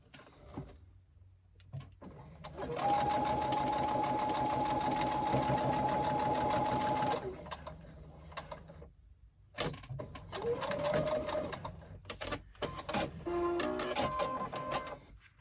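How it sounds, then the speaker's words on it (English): A sewing machine stitches a zippered pocket pouch in bursts, a steady whirring run of several seconds followed by shorter stops and starts, close and clear. "And continue stitching to the end."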